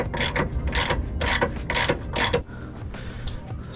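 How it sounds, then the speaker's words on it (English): A ratchet with a 15mm socket loosening the sway bar end link on a 2005–2009 Mustang GT, giving about five quick bursts of rapid clicking, close and loud, followed by quieter mechanical handling noise. "this is just going to be a 15mm socket. So you just get it loose and you start removing it."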